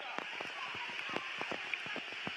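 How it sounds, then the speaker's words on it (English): Steady rain falls on the Panamericano Stadium football field in San Cristobal, Dominican Republic, during a women's under-20 match. It makes an even, close hiss throughout, with brief voices cutting in now and then. "It's actually calming listening to the rainfall here."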